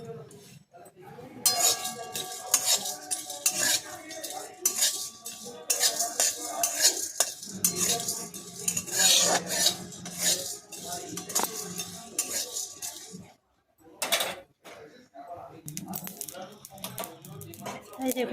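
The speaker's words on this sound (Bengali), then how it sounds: "আমি যে গোটা জিরে আর গোটা গোলমরিচ নিয়েছিলাম, সেটা এবার আমি শুকনো খোলায় নেড়ে নেব" Whole cumin seeds and black peppercorns dry-roasted and stirred in a dry pan, with busy rapid scraping and rattling of a spatula against metal, close and fairly loud, briefly pausing near the end.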